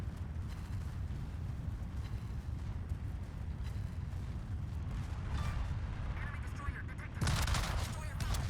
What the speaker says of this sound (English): with the help of my teammates and the Libertad secondaries